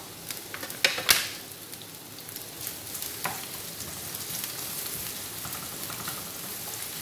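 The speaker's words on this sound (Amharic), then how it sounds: "ዘይት እዚህ ጋር ጨምራለሁ ትንሽዬ ዘይት ከዛን እዚህ ጋራ ሽንኩርት ጨምራለሁ በስላይስ የተከተፈ ሽንኩርት" Sliced onion drops into a little hot oil in a pan and fries with a steady, close hiss, a few sharp clatters near the start, then an even sizzle alone.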